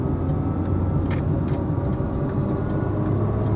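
A 1989 Austin Metro 1.0 City X's engine hums steadily at close range, a low continuous drone with faint road noise, rising gently as it accelerates away from a roundabout.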